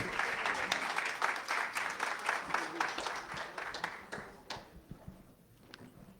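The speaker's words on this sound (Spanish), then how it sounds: "Un fuerte aplauso para él, por favor" Audience applause for a projects coordinator being introduced at a closing event of a project on violence against women, a dense round of clapping that holds steady and then thins and fades near the end.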